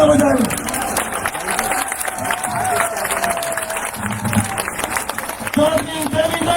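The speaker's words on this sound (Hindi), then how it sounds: "आप सब लोग एक बार जोरदार तालियां बजाएं" A large crowd applauds and cheers at an outdoor political rally, a broad, steady wash of clapping and crowd noise lasting several seconds with voices mixed in.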